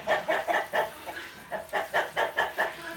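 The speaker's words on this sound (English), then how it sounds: "The Roosters are trying to out-talk me." Several chickens and roosters cluck and call in quick repeated bursts, close and fairly loud, with a short lull midway before the calls pick up again; no clear full crow stands out.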